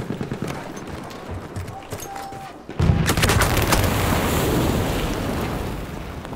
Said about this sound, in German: Hört man irgendwelche Explosionen und Schüsse?